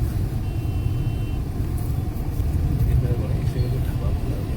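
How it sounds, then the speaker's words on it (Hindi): Road traffic near a shopping mall in Dehradun, India, rolls past as a steady, dense rumble of cars and trucks, with a brief high beep early on and faint voices mixed into the din. "यहाँ पे इतना ट्रैफिक क्यों लगता है"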